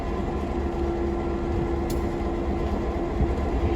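Locomotive 710 rolls past a standing train at a railway yard with a turntable in East Chattanooga, Tennessee: a steady, loud rumble of engine and rail noise with a constant tone, continuous with no break.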